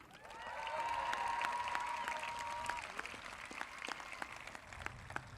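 At a Concord-Carlisle High School graduation, an audience applauds for a state championship team, a moderate, fairly distant patter of many hands rising and then thinning out, with a voice and crowd murmur underneath.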